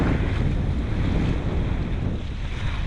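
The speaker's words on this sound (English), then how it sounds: "The wind picked up a little bit." Strong wind roars across the microphone aboard a sailboat at sea, a dense, steady rush mixed with the wash of waves and no voices.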